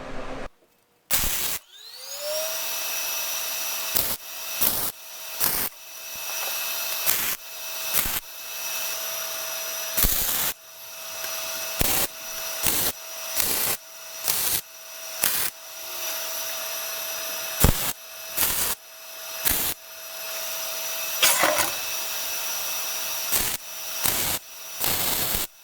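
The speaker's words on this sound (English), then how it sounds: "I've got the slug in here, so now I'm going to weld that one and pop this out" Welding a steel slug into a rear suspension control arm during fabrication: repeated short bursts of harsh crackling buzz from the welder, separated by brief pauses, close and fairly loud.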